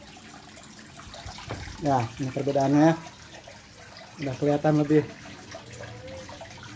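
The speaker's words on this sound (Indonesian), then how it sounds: "Ini ada air terjun, ke bawahnya ada kolam." A small garden waterfall spills steadily into an ornamental fish pond in a compact urban yard, a constant close splash and trickle running beneath two stretches of conversational speech.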